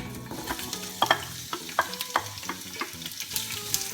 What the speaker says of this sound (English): we will let the onions cook until they are slightly soft and a bit brown